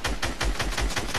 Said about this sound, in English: Break this tree.